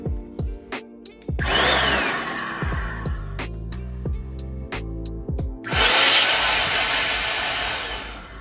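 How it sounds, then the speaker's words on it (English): An electric air duster blows dust out of a PC case in two long, loud roaring bursts, with sharp clicks and knocks in the quieter gap between them. "I'm gonna get the electric duster ready."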